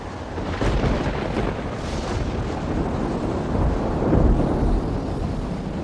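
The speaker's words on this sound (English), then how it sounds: "As winter intensifies, more storms blow in from the south." A winter storm blowing in from the south over a coastal sea, with heavy rumbling wind and surf noise and a deep thunder-like swell rising near the end, continuous and loud with no speech.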